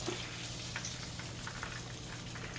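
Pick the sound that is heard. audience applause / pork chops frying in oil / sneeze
pork chops frying in oil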